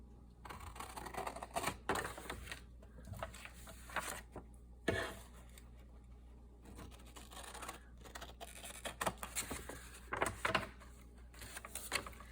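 Scissors cutting a square out of a 6 by 9 inch paper envelope, with close, irregular snips and crisp paper rustles coming in short bursts.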